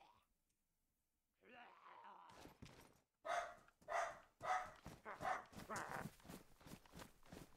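A dog barks loudly and repeatedly nearby in a rapid run of sharp barks, preceded by rustling and a short pause, with no voices.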